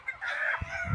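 A pure-breed White Kelso gamefowl rooster crows once in a short, close burst, with some clucking or handling noise near the end.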